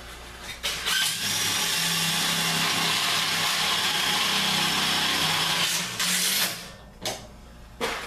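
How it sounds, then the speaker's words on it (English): A power drill bores through sheet metal housing, through two layers at an HVAC divider, giving a loud, steady whine for about five seconds, then short bursts as it stops and restarts. "What we were doing is drilling into the housing, the divider there."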